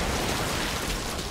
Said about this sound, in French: Avec ses impressionnants récifs et sa pluie torrentielle.